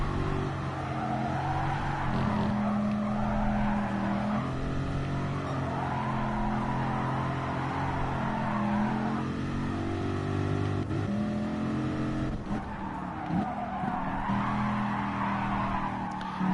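A race car in Gran Turismo Sport runs a lap with a steady engine drone and changing pitch while the tires squeal and skid through corners, continuous and fairly faint.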